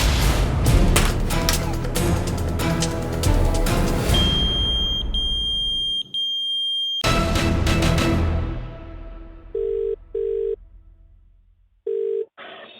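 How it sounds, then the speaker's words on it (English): A pager gives several short electronic beeps, two close together and then one more, in a quiet pause that follows a burst of noisy activity. "I got your beep."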